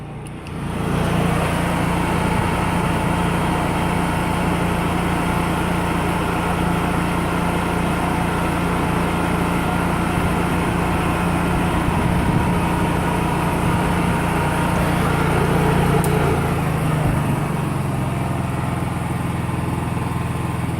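A Honda EU3000is portable generator running on propane through a KN regulator idles steadily and loudly for the whole stretch, a constant droning hum with little variation, easing slightly near the end.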